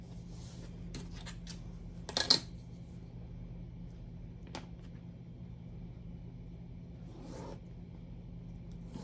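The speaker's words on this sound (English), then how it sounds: "I've cut my Tyvek, the width I need and the height I need" A sheet of Tyvek is cut to size during a craft project. It is heard as a brief close crisp slicing burst, and a few faint scattered rustles and taps follow in a quiet room.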